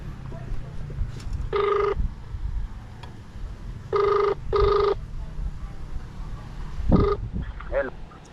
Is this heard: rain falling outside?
no